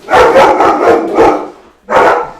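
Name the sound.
dogs barking after the doorbell rang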